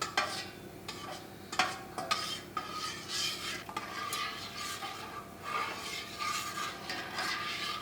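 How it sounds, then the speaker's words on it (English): Spoon stirring mesquite bean jelly mixture in a pot to dissolve the sugar, with continuous scraping and clinking against the metal sides, close and moderately loud, no talking. "You want to keep stirring so you can make sure that the sugar gel is completely dissolved in the liquid"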